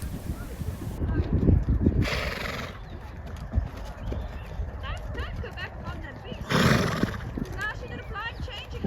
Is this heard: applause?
no